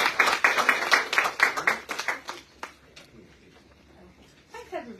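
Applause at a university trad music society lunchtime concert: a quick, close patter of hands for about two and a half seconds that dies away, followed by a voice speaking.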